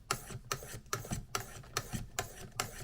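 A blade is drawn against its bevel across a smooth ceramic sharpening stone in steady rasping strokes, about seven evenly spaced passes, close and clear.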